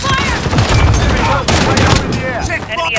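Dense gunfire during a Hardpoint match in Call of Duty Modern Warfare Warzone, a loud continuous fusillade of rapid overlapping shots with bursts of automatic fire, game voices speaking over it.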